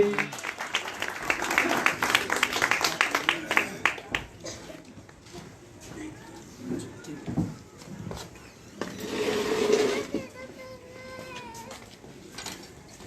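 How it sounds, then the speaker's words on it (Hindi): A church congregation claps loudly after a prayer, a dense burst of applause that comes and goes over several seconds, mixed with voices and shouts in the hall. "जोरदार ताली बजाएंगे"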